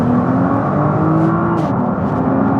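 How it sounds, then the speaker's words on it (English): A Nissan GT-R R35 sports car engine droning steadily from inside the cabin, a constant mechanical hum and whir with no voices. "It's a mechanical noisy car."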